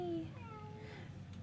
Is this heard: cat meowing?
yes